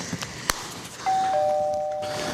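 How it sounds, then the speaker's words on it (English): A doorbell chimes twice, a bright ding followed by a lower dong that rings out and slowly fades, after a few soft clicks. "I'll get the doorbell for you."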